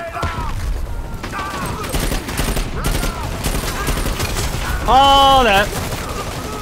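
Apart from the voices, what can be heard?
gunfire in the video game Dirty Bomb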